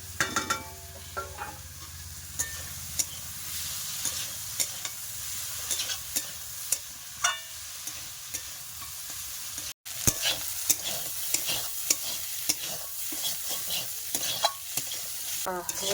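Shrimp and vegetables frying in oil in a pan, with a continuous sizzle and repeated scraping strokes of a spatula stirring, close and steady throughout with no speech.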